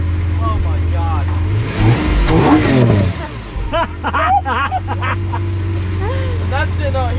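A Lamborghini Aventador's engine revs loudly and close during its first drive, a sharp burst of high-pitched roar surging and settling into a steady idle hum, with excited voices talking throughout.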